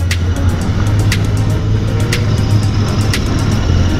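A Royal Enfield Interceptor motorcycle cruises slowly, its steady low engine drone loud and continuous throughout, with regular faint ticking clicks riding on top.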